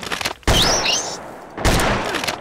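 Revolver shots in a prehistoric hunting video game: two loud, sharp gunshot blasts about a second apart, each with a long ringing tail, and a brief squealing cry between them.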